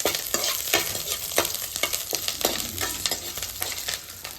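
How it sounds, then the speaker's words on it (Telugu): Chopped onions frying in a little oil with curry leaves while being stirred until brown, giving a continuous sizzle broken by frequent scraping utensil strokes. "సో ఉల్లిపాయలు ఇట్లా వేసుకోవడం జరుగుతుంది. సో బ్రౌన్ వచ్చే వరకు మనం అలా వేయించుతూనే ఉండాలి."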